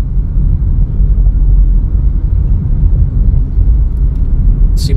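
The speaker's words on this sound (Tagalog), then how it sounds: "ang daming tricycle, ang daming motor." Street traffic of tricycles and motorcycles near a municipal hall in a Philippine town, a loud, steady low engine rumble passing close by without pause.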